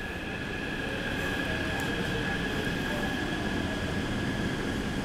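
A Taipei Metro C381 train pulls into Songjiang Nanjing station, a loud, steady rumble of wheels and motors with a sustained high whine over it, close and continuous.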